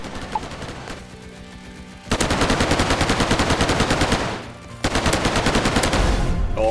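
Pistol fire in the Roblox game Hypershot comes in two long, rapid, evenly spaced bursts of loud close shots, separated by a short quieter gap and a few isolated pops.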